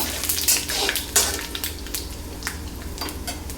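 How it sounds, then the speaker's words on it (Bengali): Bay leaves and panch phoron fry in hot oil with a steady close sizzle, broken by several scraping stirs and light clinks of a utensil against the pan. "দুটো তেজপাতা আর দিয়ে দিচ্ছি পাঁচফোড়ন একটু নাড়াচাড়া করে নেব"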